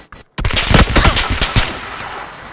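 Video game gunfire, close and loud: a sharp initial shot, then a rapid automatic burst of rattling rounds that trails off into fading echo.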